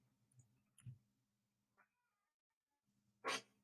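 A cat meows a few times with long quiet gaps between calls. The last meow is the loudest and closest.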